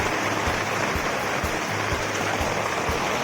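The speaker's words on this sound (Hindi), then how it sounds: "वर्षा धरी देला को बुआ" Rain pours steadily outdoors, a dense constant hiss with faint periodic taps, loud and close throughout, no voices heard.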